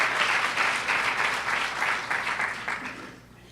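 Loud crowd applause with cheering at an evening event held with AIGA St. Louis, a dense wash of clapping that holds steady for about three seconds, then fades away.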